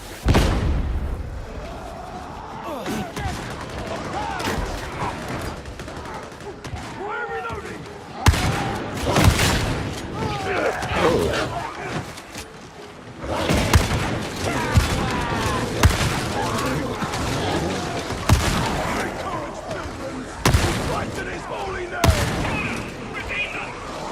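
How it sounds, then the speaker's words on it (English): Explosive barrel detonates amid heavy gunfire in the Warhammer 40k: Darktide video game, a loud chaotic battle of repeated bursts and booms with shouted voices running throughout. "Barrel is about to detonate!"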